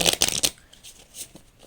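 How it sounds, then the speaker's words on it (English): Tarot cards riffled together in a quick burst of crisp, papery flutter at close range, followed by a few soft shuffling touches and handling sounds in a quiet room. "I'm gonna shuffle these cards a little more before I get into"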